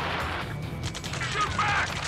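Gunfire in the Ace Combat 7 video game: bursts of shots and rumbling impacts sound at a fair distance, muffled under a steady battle din.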